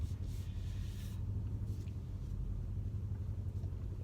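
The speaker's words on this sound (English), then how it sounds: "I'm gonna reverse in" A Mercedes C63s engine rumbles low and steady while the car backs up slowly, a muffled drone heard from inside, fairly quiet and even, with no speech.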